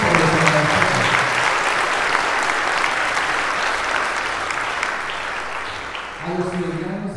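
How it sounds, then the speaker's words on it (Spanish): Congregation applauding in church during a Pentecost vigil Mass, steady loud clapping from many hands that fades slightly before a voice speaks at the end. "¡Un aplauso!"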